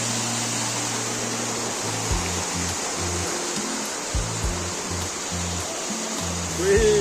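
Jhyampal waterfall in Nepal roars with a steady, dense rush of falling water, loud and continuous throughout, with a faint low hum underneath.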